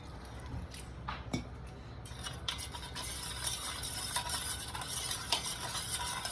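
Chicken marinade being stirred together with added water in a bowl, a steady soft wet swishing with a few light clicks of the utensil against the container, no talking.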